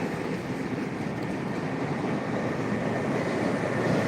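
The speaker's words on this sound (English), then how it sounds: "We got the train coming." A train passes through a city, a steady low rumble and broadband roar holding at even loudness throughout, moderately near with no talking.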